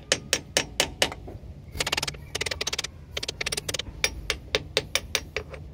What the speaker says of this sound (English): I'm gonna just tap it in with the hammer, get it started.